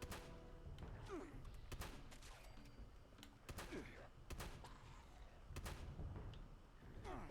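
Gunfire in the video game Fallout 76, repeated sharp shots and booming thuds at irregular intervals over a rumbling game background, with a voice talking in between.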